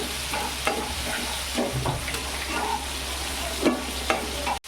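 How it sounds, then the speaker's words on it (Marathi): Tomatoes cook in a pan with a steady, close sizzle, and a spoon stirs and scrapes now and then, with no talking. "टॉमेटो जरा शिजून द्यायचे पाच केली मी टॉमेटो शिजण्यासाठी"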